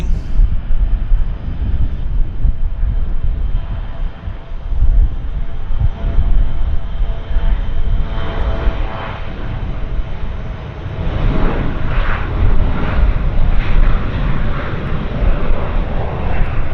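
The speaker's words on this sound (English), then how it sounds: "Embraer's rolling." An Embraer jet airliner rolls for takeoff at Vancouver airport, a loud, steady broadband engine roar with a rising whine that holds for the whole span, heard from the spotting area with no talking.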